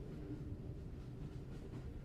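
Steady low rumble of a passenger train running in the evening, a continuous rolling drone with faint rail rhythm, moderately quiet and unbroken with no voices.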